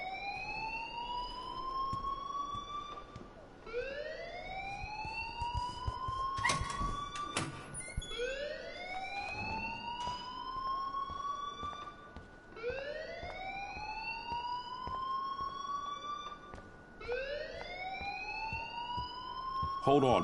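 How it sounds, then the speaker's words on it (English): An alarm in a video game (Life is Strange) rises in repeated upward-sweeping wails, about every two and a half seconds, holding at a steady moderate level under a quiet background, with a couple of sharp knocks partway through. "please turn off that alarm since that's your job"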